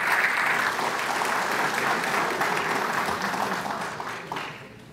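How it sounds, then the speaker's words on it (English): An audience at a breakfast presentation applauds steadily, a dense wash of clapping that stays loud and then tapers slightly toward the end, with no speech over it. "let's give them a rousing applause for the great job that they did today"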